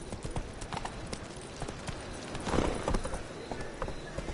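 A horse gallops in the video game The Witcher 3, with rapid, rhythmic clip-clop hoofbeats that build to a louder burst midway.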